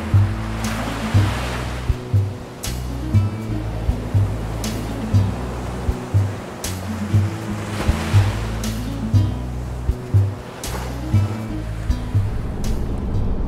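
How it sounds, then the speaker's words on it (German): Surf rolls onto a beach in the Scottish Highlands under strong wind: a continuous roar of waves with recurring surges and low, pulsing wind buffeting close to the microphone. "Etwas übernächtigt unternehmen wir trotz starkem Wind einen Strandspaziergang."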